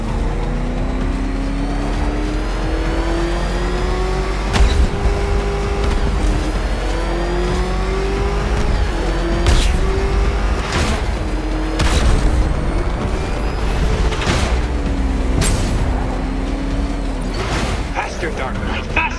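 The Batmobile's engine roars and revs as it races in Batman Arkham Knight, rising and falling gear-shift whines over a constant rumble with sharp impact thuds, while a taunting voice talks over it.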